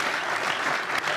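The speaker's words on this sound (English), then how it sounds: "product plug here for Mississippi Today deserves a round of applause." Audience applause at a panel discussion on new media and the 2016 election, steady dense clapping filling the whole moment at moderate loudness with no talk.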